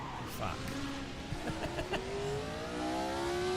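Race car in Assetto Corsa accelerating with a rising whine of engine pitch, punctuated by brief clicks, while a voice talks faintly in the background.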